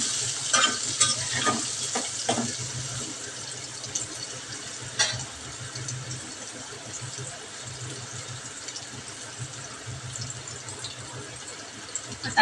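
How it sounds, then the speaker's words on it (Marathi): Onion frying in a pan while cooking khichdi, a steady close sizzle running throughout with occasional stirring scrapes and clinks, no talking. "आता आपला कांदा तळून झाला"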